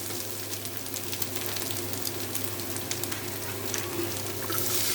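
Vegetables and egg frying in a pan for a pumpkin bhaji, a steady dense sizzle running throughout with occasional crackles and pops, close and moderately loud, no talking.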